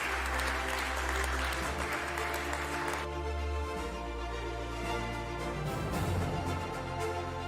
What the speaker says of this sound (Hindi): रवि जी के लिए तालियां हो जाए